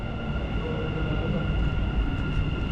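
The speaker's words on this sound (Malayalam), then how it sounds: "ഗൈസ് ദുബായ് മെട്രോ വന്നിട്ടുണ്ട്" A Dubai Metro train arrives at a station, its steady electric hum and rolling rumble filling the space with a constant, fairly loud drone.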